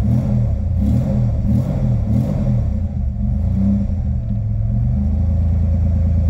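A small engine idles close by after being started with starter fluid during yard work, a loud, steady low rumble with slight uneven pulsing and clatter.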